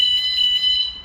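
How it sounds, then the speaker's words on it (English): A campervan security alarm system sounds a loud, steady electronic beeping tone with a quick repeating pulse, close and continuous with no talk. "You hear the alarms going do do do do."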